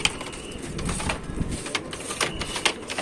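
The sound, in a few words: racing pigeons being aired at a loft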